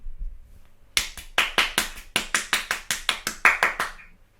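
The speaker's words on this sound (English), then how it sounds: "The thunderous applause of one." One person clapping alone, about fifteen sharp, evenly spaced claps with a short pause after the first, close and clear, with no talking.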